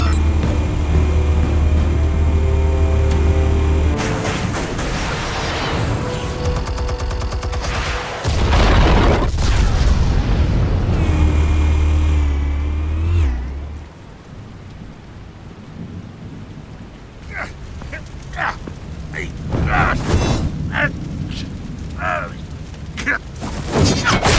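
Explosives detonate in a Telltale Batman game scene, with loud deep booms and rumbling blasts in the first half, then scattered sharp impacts and crashes afterward.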